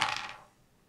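Dice clatter briefly across a table during a tabletop board game, a quick bright rattle that fades within half a second.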